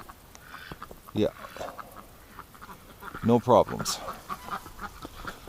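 Ducks on a cold, wet winter day near freezing let out a few short quacks, one burst early and a louder cluster a couple of seconds later, with a person talking nearby.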